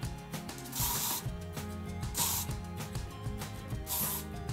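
Hairspray is sprayed onto hair to finish a smooth, sleek top knot, in three short bursts of hissing spray over soft background music.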